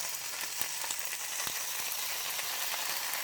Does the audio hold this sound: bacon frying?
yes